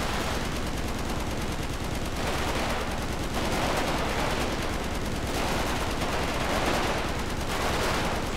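Sustained machine gun fire in a first-person video game bank robbery, dense rapid bursts continuing without pause, loud and steady throughout with no talking.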